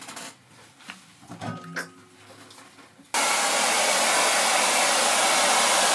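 A handheld hair dryer switches on abruptly and blows with a loud, steady, broadband rush of air close by, after a few seconds of quiet rustling and handling noises while a wig is being styled.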